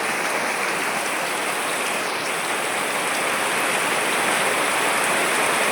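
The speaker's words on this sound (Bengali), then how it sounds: "গ্রামে এখন বৃষ্টি হচ্ছে, তুফান ঝড়ে বৃষ্টি হচ্ছে, যা বলার বাইরে।" Heavy village rain in a stormy downpour drums on a tin roof as a dense, steady roar of patter, close and unbroken, with no voices.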